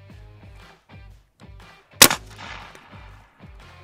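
An air-powered shotgun fires once as a single sharp, loud blast, set against a steady series of soft rhythmic thumps before and after it.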